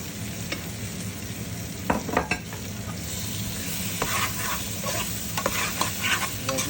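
Tomatoes and potatoes sautéing in oil for a fish curry, with a steady close sizzle and repeated scraping stirs and light utensil knocks against the pan, no voices.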